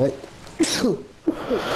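A person sneezes sharply during a ranked Call of Duty: Modern Warfare 2 match, the brief burst landing between bits of casual speech, with a second similar burst a moment later.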